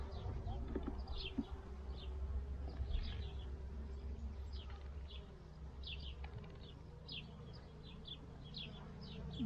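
Honeybees buzz at an open hive, a steady low hum with scattered brief insect whirs, under soft background noise.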